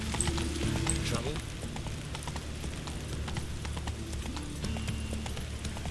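Roach the horse trots along in The Witcher 3, a steady run of soft hoof clip-clops under quiet game ambience, with a voice speaking over the top.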